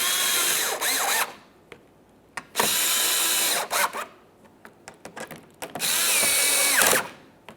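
A power drill runs in three short bursts, whirring and winding down, as it snugs up push clips on the lower front grille of a Toyota Sienna, with clicks and handling noises between bursts.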